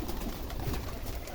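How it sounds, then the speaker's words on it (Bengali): Rajshahi Giribaj pigeons in a large flock coo softly in a low murmur, faint and steady over quiet background noise. "সব রাজশাহী টপ কোয়ালিটির কবুতর এখানে আছে"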